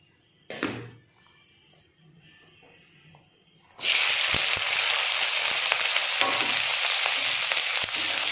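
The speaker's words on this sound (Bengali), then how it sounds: "এরপরে সবজি ভাজবো, এই সবজিগুলো ভাজবো।" Vegetables for chow mein drop into a hot wok after a few quiet seconds and a brief clatter, setting off a loud, sustained close sizzle and hiss with occasional stirring knocks.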